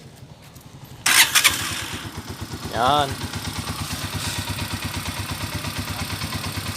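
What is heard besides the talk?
TMX125 Alpha motorcycle engine starting and idling after overhaul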